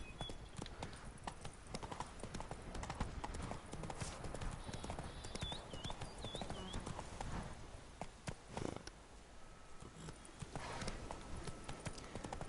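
Hooves of a horse in The Witcher 3 video game clip-clop in a rapid, steady galloping rhythm, fairly quiet and continuous, with brief whinny-like tones and someone talking over parts of it.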